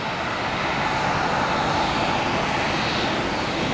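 United airliner taxiing at Tampa International Airport: a steady, broad engine roar held at constant level for the whole stretch, fairly close and without pauses or voices.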